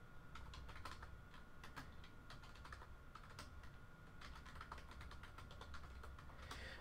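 Rapid, uneven keystrokes on a computer keyboard while a command is typed at a Raspberry Pi command line, close and steady with no talking.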